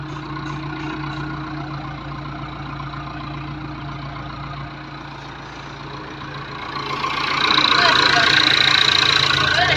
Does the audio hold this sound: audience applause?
no